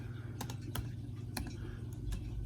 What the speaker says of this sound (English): So next we're going to go into the CLI, and you're going to type in